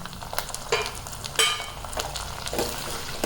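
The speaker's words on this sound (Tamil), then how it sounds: "இதை போட்டு நல்லா இது ஒரு 5 நிமிஷம் 6 நிமிஷம் வதக்கினா தான் நல்லா கொஞ்சம் மசியும்" Steady frying sizzle of tomatoes sautéing in a pan with a few sharp clinks and stirring scrapes, close and fairly quiet, no voices.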